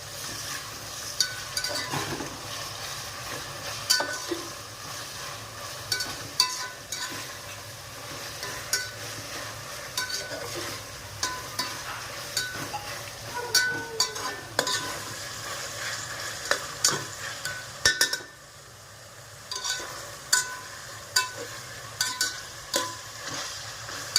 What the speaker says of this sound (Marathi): हलवून घ्यायचं व्यवस्थित